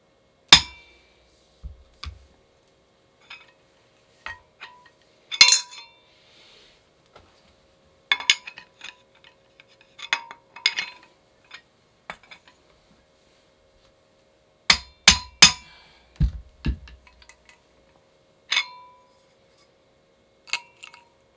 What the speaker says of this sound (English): Sometimes you have to hammer it several times.